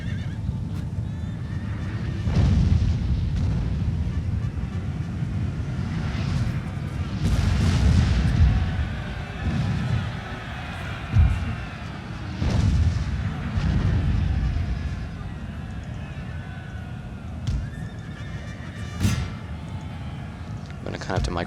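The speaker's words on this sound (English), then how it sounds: "I can get some solid artillery fire on them." Artillery fires across a Napoleonic battlefield in Napoleon Total War, with repeated booms and volleys set against neighing horses and clip-clopping hooves in continuous battle ambience.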